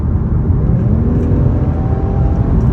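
A 2021 Infiniti Q50 with all-wheel drive, heard from inside as the driver floors it at about 60 mph: a loud, steady low engine and road rumble with a faint rising whine, no voices.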